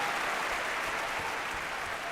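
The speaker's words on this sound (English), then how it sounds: "I'm not sure if you can hear that applause or not." Steady, faint applause from a small group during a live online show, a dense wash of clapping that holds evenly for about two seconds with no voices over it.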